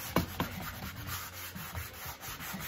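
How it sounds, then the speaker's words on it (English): Sandpaper rubs along the edges of painted furniture to distress it, a few short scratchy strokes up close, fairly quiet with soft background hiss. "I'm gonna do a little bit of distressing on the edges."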